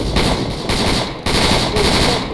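Heavy automatic gunfire from a firefight in the military video game Arma 3, set in a Vietnam-era battle, with dense, loud machine-gun bursts rattling continuously across the whole stretch and short breaks between volleys.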